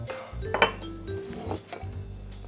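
Ice cubes clink against a cocktail shaker or glass while a Tommy's Margarita is made at home, a few quiet rattling knocks and taps close by, alone without talk.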